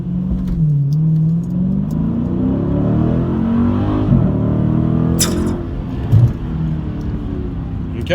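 A 2019 Dodge Challenger Scat Pack launches hard in first gear on drag radials, its V8 roaring loud and close as the revs climb steadily, with a brief knock near the end.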